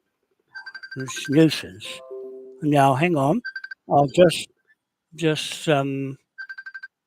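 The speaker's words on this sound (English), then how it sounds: "Oh, it's like somebody's ringing me." A telephone ringtone chirps in short repeated bursts at the start and end, with someone talking loudly over and between the rings close by.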